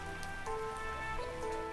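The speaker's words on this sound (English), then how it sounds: "The weather started to change and it began to rain" Steady rain falling on a surface during a wintry weekend, a soft continuous patter with drops throughout, alone with faint tonal hum from indoors.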